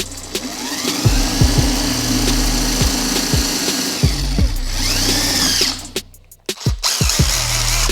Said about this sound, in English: what we wanna do is drill out a hole out the top